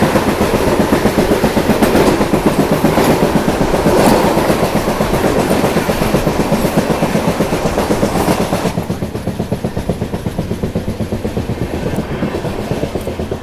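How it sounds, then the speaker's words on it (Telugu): The Visakhapatnam–Secunderabad Vande Bharat train rolls past, a loud, continuous rumble with rapid rhythmic clatter of wheels over rail joints that eases slightly toward the end. "విశాఖపట్నం సికింద్రాబాద్ వందే భారత్."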